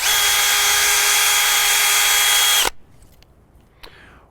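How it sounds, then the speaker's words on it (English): A power drill bores a downward-angled tap hole into a maple tree in a state park, whining loudly and steadily for over two seconds before cutting off, followed by quiet and a small knock. "Now when I'm drilling a hole in this tree, I'll angle the hole slightly downwards."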